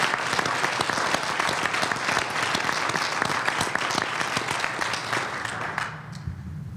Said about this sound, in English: Give yourselves a tremendous round of applause for the work that you did.